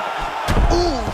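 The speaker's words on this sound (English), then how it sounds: "There was a massive shot that just landed in close." Punch landing in close during a UFC 6 video game fight between Rose Namajunas and Casey O'Neill, a single sharp thudding impact followed by a brief tonal ring, over steady arena background.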